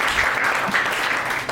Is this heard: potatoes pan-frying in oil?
no